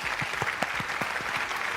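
A studio audience applauds a young Indonesian guitarist, steady moderate clapping with a few distinct nearer hand claps standing out, no talk over it.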